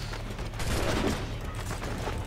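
A burst of gunfire in the Assassin's Creed 4 Black Flag video game, dense overlapping shots forming a loud rattling fusillade over a noisy rumbling background.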